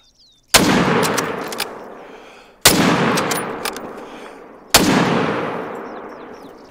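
Three loud rifle shots at ibex in the hunting game theHunter: Call of the Wild, evenly spaced about two seconds apart, each a sharp crack with a long rolling echo fading away.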